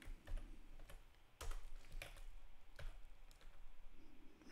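Close, quiet typing on a computer keyboard: irregular bursts of soft key clicks with a few sharper taps, no voice over them.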